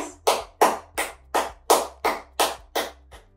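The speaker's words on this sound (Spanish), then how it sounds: "Y aquí, aplauden." Hands clap in a steady rhythm, eight firm, close claps about a third of a second apart, during a tapping routine meant to stimulate acupuncture points on the palms.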